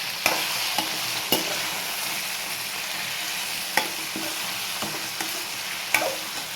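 Tomato chutney sizzles softly in a pan while a spoon stirs it, with a steady frying hiss and scattered sharp scrapes and taps of the spoon against the pan.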